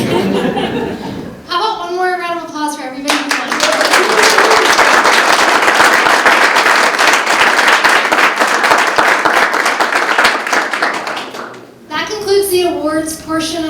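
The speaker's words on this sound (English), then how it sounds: "How about one more round of applause for everybody who's won?" An awards ceremony crowd gives a sustained round of applause lasting several seconds, dense clapping with some laughter, with a host speaking before and after.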